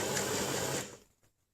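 A sewing machine fitted with a zipper foot runs a short burst of stitching on a zipper, a close steady whirring hum that stops abruptly, leaving a few faint clicks.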